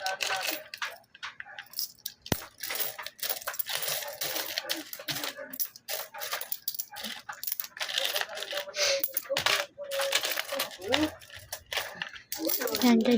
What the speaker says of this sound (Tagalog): Puno na puno ng barya.